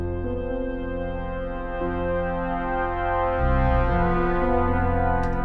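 Deep, sustained orchestral music with low droning tones and slowly shifting chords, no percussion, steady and full throughout.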